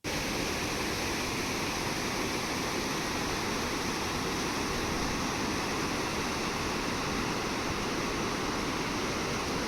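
A waterfall near Hampi, India, roars in a steady, unbroken rush, loud and close, with no pauses or other sounds.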